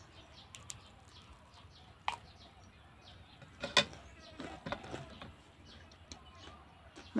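Birds and crows call outdoors in a rural setting, scattered chirps and sharp caws at irregular intervals with light background clatter, fairly faint and distant.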